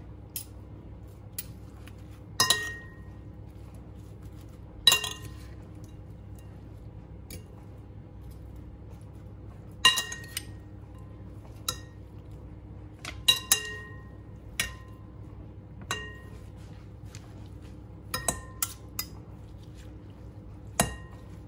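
Tempeh mixed in a bowl, heard as scattered clinks and taps of a utensil against the bowl, brief and fairly quiet, spaced every few seconds over a low steady background hum.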